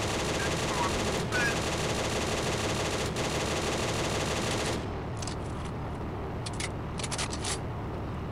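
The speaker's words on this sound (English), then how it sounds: "Let's see if we can machine gun these guys." Tank machine gun in the Steel Fury combat game fires sustained bursts at distant German infantry, a dense loud rattle for about five seconds before cutting off, leaving quieter battlefield ambience with faint crackles.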